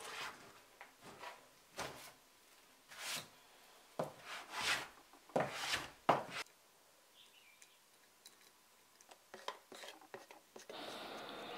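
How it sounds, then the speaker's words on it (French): Hand plane finishing wood after routing, passing in a series of rasping, rubbing strokes at close range with short pauses between them, no talk over it. "je fais la finition au rabot"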